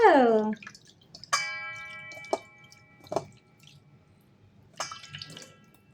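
Water is poured over a small Gopal idol during its bath, making scattered splashes and drips separated by quiet gaps, with light bell-like chimes and a voice briefly heard.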